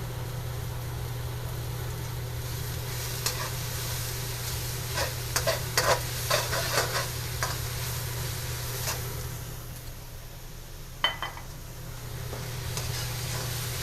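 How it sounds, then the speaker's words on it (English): Red pepper stir-fried in a hot pan for chicken pad thai, a steady low sizzle with scattered scraping clicks of the spatula, close and fairly quiet over a constant low hum. "Now I'm going to add my red pepper. We like that a little bit crispy."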